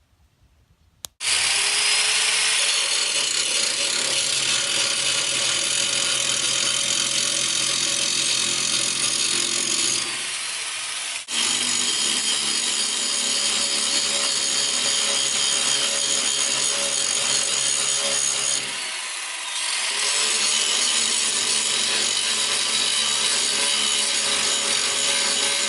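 Power grinder cutting off a part during a power steering swap on a 1965 Chevrolet C10, a loud continuous harsh grind that runs for long stretches with two short dips in pitch and level.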